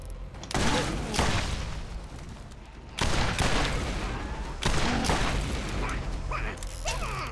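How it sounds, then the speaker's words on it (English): Grenade explosions and gunfire in the Borderlands video game: repeated heavy blasts in three big bursts, each trailing off in crackling rattle, loud and close, with a player talking over them. "I love how I can actually abuse my grenades now."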